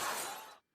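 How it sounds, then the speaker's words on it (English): Car window glass smashed in a damage spree, one loud close burst of shattering and crunching glass that cuts off abruptly, with no voices. "He shattered car windows, ripped off side mirrors, dented hoods, and broke windshield wipers."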